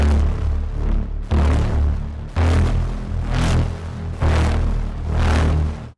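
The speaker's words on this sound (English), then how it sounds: "But let's turn the distortion on." A Logic Pro Alchemy synth with its low-end distortion switched on plays heavy, gritty bass-rich chords in four sustained swells, each struck anew about every second and a half, loud and alone with no talking.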